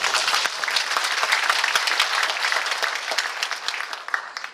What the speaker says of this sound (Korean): 한 분 한 분 소개가 될 때마다 뜨거운 박수로 환영해 주시기 바랍니다